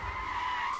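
A car's tires squeal in a short, loud, sustained skid as it speeds away, heard close and alone.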